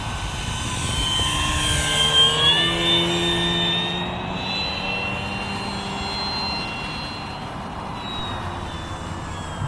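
An Avios Grand Tundra Plus electric RC model airplane in EPO foam with a 1700 mm wingspan flies overhead, its motor giving a steady, moderately loud whine that shifts in pitch as it passes, with no talking.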